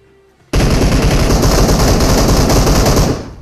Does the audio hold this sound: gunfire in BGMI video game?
yes